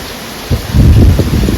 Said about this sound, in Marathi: बाहेर पावसाचा आवाज येऊ शकता किसपाट पाऊस आहे